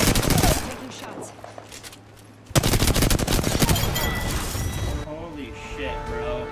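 Dense gunfire in the Apex Legends game: loud rapid bursts of automatic fire and impacts, a short lull, then more sustained volleys, with excited voices talking over the shooting.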